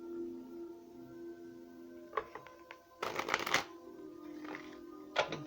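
Tarot cards being shuffled by hand, a few short riffling bursts with a longer crisp flurry in the middle, close and quiet over a faint steady hum.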